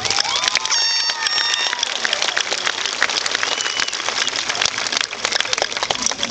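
A graduation ceremony audience breaks into loud, sustained applause, a steady rain-like patter of many hands that fills the room from start to finish, with a few whoops and cheers rising near the beginning.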